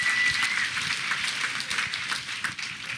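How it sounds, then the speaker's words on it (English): A live audience gives a steady burst of dense applause that fills the room evenly for a few seconds, loud and continuous with no voices over it. "give yourselves a big round of applause for coming out here"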